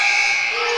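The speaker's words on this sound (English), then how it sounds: "The buzzer sounds while ball is en route" Basketball game buzzer blaring in a short continuous burst, harsh and loud, filling the whole moment without pause at a men's college game.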